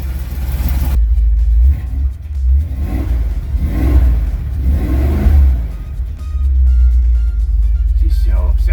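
An old school hot-rodded Ford truck engine revs hard through a loud, worn exhaust, a deep continuous rumble that swells and falls over several throttle blips, with faint voices underneath.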